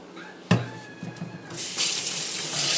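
Running tap water rinses a white steel usuba knife blade in a sink, starting with a clunk, then a soft trickle that swells into a steady, loud stream of water.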